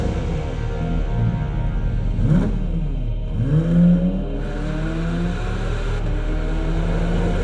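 A Porsche GT4 RS engine revs and accelerates, its pitch sweeping up and down in a few strong pulls before settling into a steady drone with a whirring edge, loud and close.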